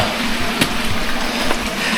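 Water flows continuously from a natural spring at a cave site, a steady gushing wash that stays close and even throughout.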